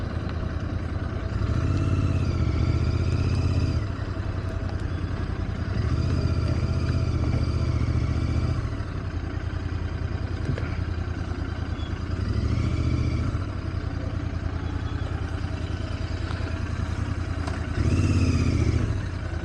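A Royal Enfield GT650 motorcycle cruises on the road on a solo trip from Chennai to Coimbatore, a steady engine drone with wind rush and periodic rises as the revs swell, near and continuous.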